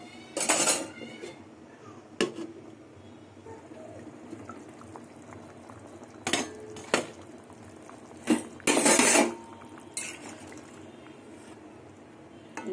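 A lid is set over a cooking pot of taro and katla fish after water goes in, giving several sharp metallic clatters and clanks spread through a quiet kitchen, with one longer rattling burst near the end.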